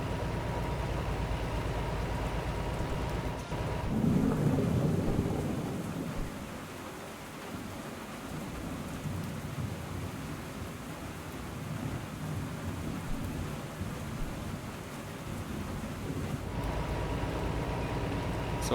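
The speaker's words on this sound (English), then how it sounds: "The rain here is really nice." Steady rain hisses over a video game truck cab during a rainstorm, with a deep rumble of thunder rolling in around the fifth second and then the downpour continuing evenly, unbroken by any voices.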